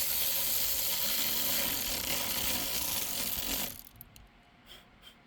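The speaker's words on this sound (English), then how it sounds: "this terminal has a 10mm nut that we are going to tie in with this 10mm socket" Ratchet with a 10mm socket tightening the battery terminal nut on a Cadillac SRX, a rapid close clicking that runs for a few seconds and then stops, leaving quiet handling noises.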